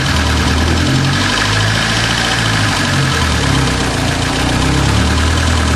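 A car engine idles loudly and close up during engine diagnostics, a steady low rumbling drone with a fine, even mechanical pulse and no change in pitch throughout.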